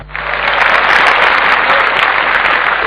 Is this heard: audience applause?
yes